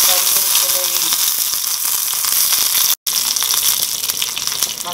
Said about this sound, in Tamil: தாளிக்கிறதுக்கு பார்த்தீங்கன்னா தேங்காய் எண்ணெயில் தாளிக்கிறேன்